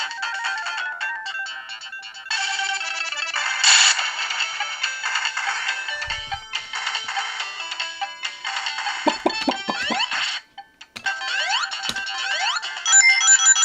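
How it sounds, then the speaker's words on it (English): Distorted, warbling electronic ringing and game sound effects from a video game running on a cheap 12-inch bartop arcade emulator, continuous with brief dropouts and chirpy sweeps, no talking. "Oh, even the ring sound is messed up."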